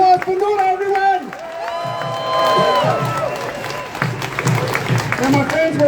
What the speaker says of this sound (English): A big round of applause for Noor, everyone!